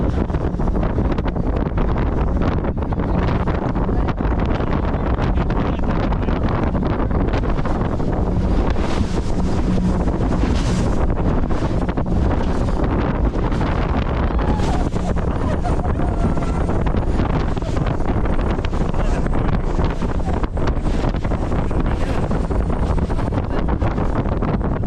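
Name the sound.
speedboat racing fast on the open sea, wind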